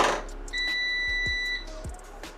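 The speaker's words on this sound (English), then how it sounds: "When it cuts off, you'll hear 5 beeps." A steady high electronic beep from a Power Air Fryer Oven sounds for about a second, followed by soft clicks and a shorter fainter tone in a quiet room.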